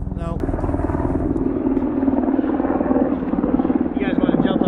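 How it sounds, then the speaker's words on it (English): A helicopter passes overhead during an outdoor water-main repair dig in cold weather, its steady rotor drone loud and continuous throughout, with a person talking over it. "Oh, helicopter!"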